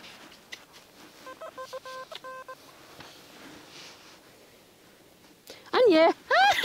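A metal detector on a Baltic beach at Stegna gives short electronic beep sequences in a quiet setting, followed by a burst of close, loud voice-like chatter near the end.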